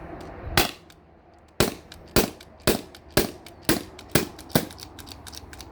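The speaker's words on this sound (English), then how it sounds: "I got one more shot in this." A T4E HDP50 CO2 marker pistol fires about ten sharp cracking shots close by, one after another in a steady rhythm, each a loud snap with a quick decay as the gas runs low.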